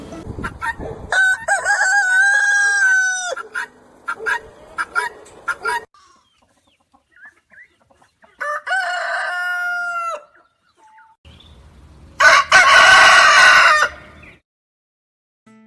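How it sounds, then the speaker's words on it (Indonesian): Roosters crowing in several loud, close calls, each a drawn-out rising and falling cry, separated by short pauses, with a final harsher, more raucous crow near the end. "Hal tersebut nih ya dapat membuat ayam-ayam terbangun dan juga langsung berkokok."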